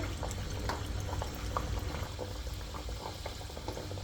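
Kachoris frying in hot oil in a pan over medium heat: a steady, dense bubbling sizzle that holds evenly throughout, with small pops and crackles scattered over it, no talking.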